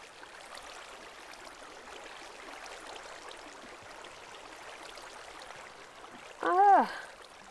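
Water flowing steadily in a video game as a base is filled, a soft continuous trickling wash heard throughout, with a brief tonal voice-like sound near the end.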